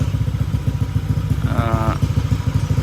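A fuel-injected motorcycle sits idling during ECU tuning with a rich fuel mixture, a loud, close, steady rhythmic thumping with a brief higher whine mixed in partway through.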